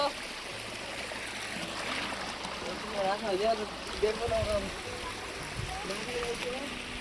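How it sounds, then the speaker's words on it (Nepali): Flowing river water rushes steadily in the background while a voice speaks over it, with a few brief chirpy sounds in the middle. "पानी पनि घुम्दैछ"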